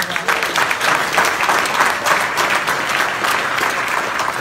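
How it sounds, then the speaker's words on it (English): Loud, dense applause from an audience at a motivational talk, a thick continuous roar of clapping with no pause across the whole stretch. "let's give a round of applause for that"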